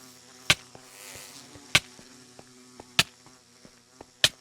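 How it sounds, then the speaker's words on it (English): A steady insect-like buzzing hum of angry bees in a video game, with sharp, regular clicks or hits about every second and a quarter, no talking. "Bees are angry"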